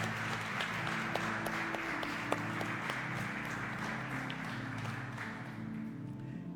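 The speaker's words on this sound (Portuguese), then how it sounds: "Irmãos, vamos oferecer nossa melhor salva de palmas para Jesus?" Church congregation claps during a worship service, steady applause with some sharper individual claps standing out, over a low sustained musical hum in the room.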